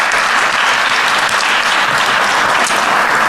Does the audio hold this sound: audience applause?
yes